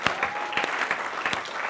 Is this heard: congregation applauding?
yes